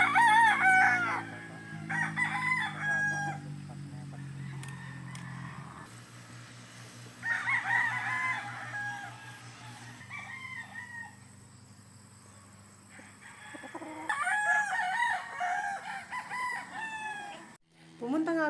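Gamefowl stags and chickens crow repeatedly across a game farm's range area, with several overlapping cock-a-doodle-doo calls at moderate distance, some clucking, and a steady background din between them.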